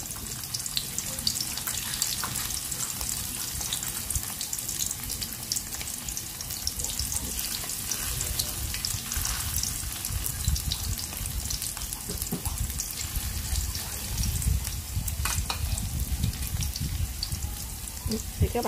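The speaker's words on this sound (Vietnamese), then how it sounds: "Thì các bạn cứ chiên như thế nè, khi nào nó vàng á thì các bạn cứ chở ha." Vegetarian ribs fry in hot oil in a pan over a low flame, giving a continuous, even sizzle that holds steady and fairly loud from start to finish.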